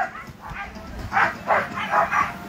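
Sled dogs yap and bark in a tight cluster at the start line of a stage race at Les Gets, several loud bursts rising over a steady crowd and commentary murmur.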